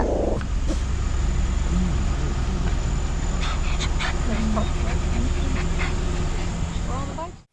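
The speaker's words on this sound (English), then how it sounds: "There's two big doggies in their store." Two big dogs inside a store make whimpers, short yips and panting over a loud, steady background din, while people talk nearby.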